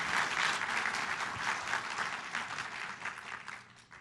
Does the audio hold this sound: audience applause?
yes